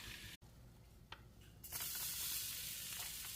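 Garlic hitting hot melted butter for a broccoli soup tempering erupts into a loud, steady sizzle after a brief clatter, the frying hiss filling the pan continuously and close by.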